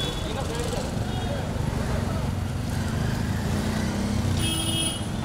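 Road traffic rumbles past steadily and fairly loud, with a vehicle approaching beside the road and a brief horn-like tone near the end.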